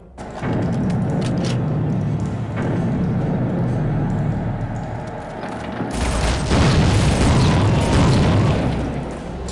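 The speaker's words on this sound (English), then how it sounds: "it has one of the most satisfying shotguns that I've used in quite a while." Loud booming shotgun blasts from the Berserker in the first-person shooter Soldier of Fortune, fired in rapid succession with thudding impacts and dense game action throughout, growing heavier toward the end.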